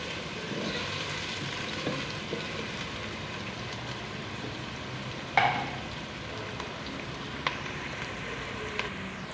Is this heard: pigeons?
no